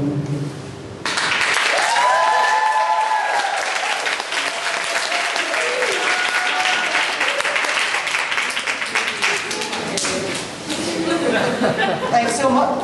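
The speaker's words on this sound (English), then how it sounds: "Another round of applause." An audience at a live performance claps in dense, sustained applause lasting over ten seconds, loud and close, with a few voices calling out over it.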